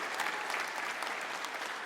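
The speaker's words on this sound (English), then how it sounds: "It's also sad that gets applause at this point, isn't it?" A comedy club crowd claps in a dense, even burst of applause that holds steady and fairly loud for the whole stretch, with no voices on top.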